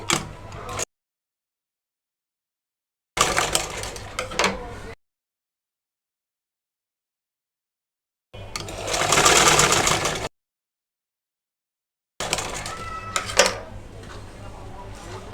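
A sewing machine stitches blouse fabric in several short bursts of mechanical whirring separated by silent gaps, with fabric handling noises between runs.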